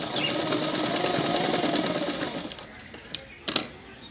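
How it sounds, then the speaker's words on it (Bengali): A sewing machine runs a long straight seam, a fast, even mechanical whir close by that slows and trails off into a few separate clicks and knocks near the end. "এই কোণাটুকু সেলাই করলাম, করে এবার এই লম্বা দিকটা সেলাই করে নিচ্ছি।"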